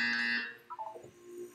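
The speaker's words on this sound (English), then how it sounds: "You will hear a buzzer. When you hear the buzzer, look up at the ceiling." Buzzer in the video game Portal 2: a loud, harsh electronic buzz that lasts under half a second, followed by faint wobbling electronic tones.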